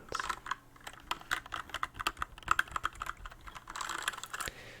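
Rapid, uneven clicking of keys on a computer keyboard, close and steady for several seconds with no voices.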